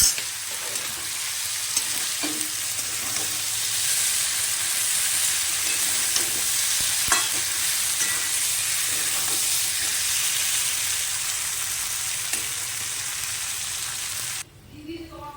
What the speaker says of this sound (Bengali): মাছের ভেতরে জল দিয়ে দিয়েছি, এবার মাছটা ফুটবে